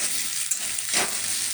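A medium mashed potato frying in a pan gives a steady, close sizzle with a brief stirring scrape, short and continuous without talk.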